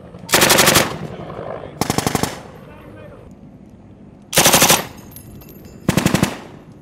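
Marines trade bursts of machine gun fire in an urban assault exercise: four loud, evenly spaced rapid bursts, each under a second long, separated by quieter gaps.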